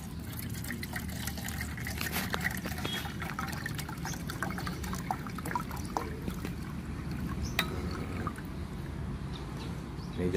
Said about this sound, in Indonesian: Pertama-tama tempatnya kita isi dulu dengan spiritus.